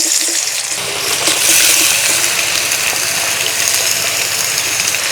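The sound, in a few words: boiled radish added to hot oil with fennel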